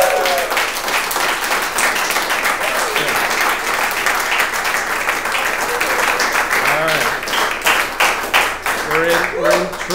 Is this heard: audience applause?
yes